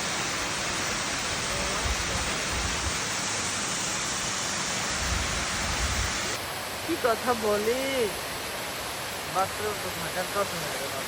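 A waterfall roars in a steady, dense rush that fills the whole clip, while a person speaks briefly over it near the end.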